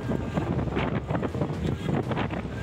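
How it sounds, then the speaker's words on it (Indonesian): Strong, gusty wind roars across an open village field in Bangkalan, Madura, East Java, a continuous loud buffeting rush with heavy microphone rumble and no voices. "detik-detik amukan angin kencang terekam kamera warga di Bangkalan, Madura, Jawa Timur"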